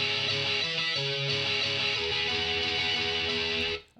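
Guitar riff, a fast run of bright, sustained notes played close and alone that rings out, then cuts off near the end.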